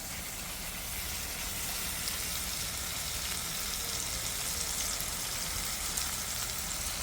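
Onions and tomatoes caramelize in a frying pan with a steady, soft sizzle and hiss that runs unbroken and close throughout, with no talking.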